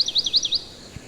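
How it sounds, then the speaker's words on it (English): Songbirds chirping in trees, a quick run of bright, high tweets in the first half second, then quieter background with a faint low thud near the end. "The birds chirping in the trees are part of nature"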